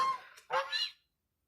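Two or three short, nasal goose honks close by, quick and slightly raspy, then silence.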